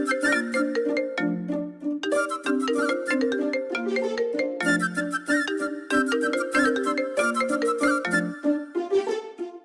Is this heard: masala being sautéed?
no